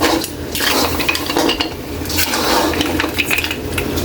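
Butter shrimp is mixed in a pan, a utensil scraping and clinking against the metal in busy, uneven strokes, fairly loud and close, with no talk heard.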